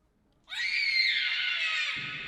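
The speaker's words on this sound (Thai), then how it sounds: "เสียงกรีดร้ององเราเองนะครับ" A long piercing scream from the horror video game Five Nights at Freddy's: The Joy of Creation rises sharply out of silence, holds loud and shrill for about a second and a half, then cuts off into low rumble.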